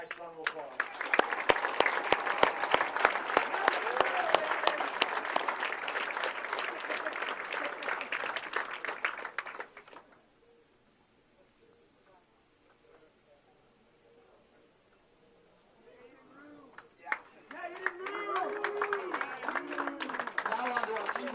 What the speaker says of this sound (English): let's give our boys a nice round of applause.